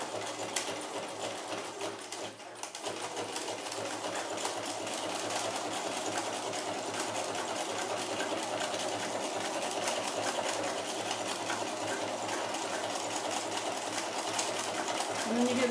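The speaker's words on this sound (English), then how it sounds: "You can zigzag the edge to keep it from unraveling" A sewing machine runs steadily and continuously, zigzag stitching along the fabric edge of a face mask, with a dense, even mechanical hum and rattle close by and no pauses.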